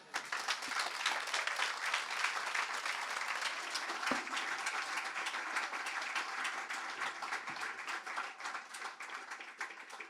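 Steady, dense applause from a large audience, continuous and fairly loud throughout, with no talking.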